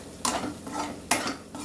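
A spoon stirs haldi, coriander and masala in a covered pot: two sharp metallic scrapes about a second apart, each followed by a softer rustle, fairly faint and close.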